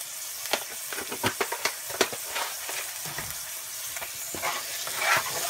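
Whole cardamom, cloves and a cinnamon stick sizzling in hot oil in a pan, a crackling hiss with a quick run of sharp pops and spatula scrapes early on, then steadier frying, close and with no voices.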